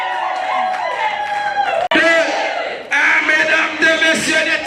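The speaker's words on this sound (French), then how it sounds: "des temps d'acclamation et d'ovation pour cette femme somptueuse qui fait son entrée ce soir" At a religious wedding celebration, a crowd loudly cheers, whoops and shouts as the bride makes her entrance, a dense and continuous wave of voices close by.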